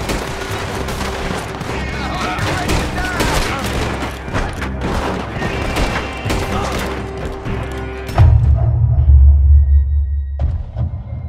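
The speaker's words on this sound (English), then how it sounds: "Shoot that oil wagon!" Heavy gunfire at an oil wagon in Red Dead Redemption 2, with sustained volleys of shots and voices shouting over them, followed by a deep, booming rumble of the wagon going up that fades away.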